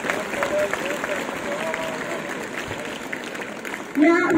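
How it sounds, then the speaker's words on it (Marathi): Applause from an audience at the opening ceremony of a school sports week, honouring a student selected for a state-level competition in Sangli. Dense, steady clapping and crowd noise fill the clip, with a voice rising near the end. "जोरात टाळ्या वाजवायला हव्यात आपल्याकडे"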